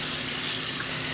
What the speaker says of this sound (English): The key is you wanna rinse until none of these little bubbles are coming out anymore.